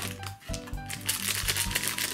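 A My Little Pony sweet box package is pulled open by hand, with close crinkling, rustling and tearing of paper and plastic in short, uneven bursts.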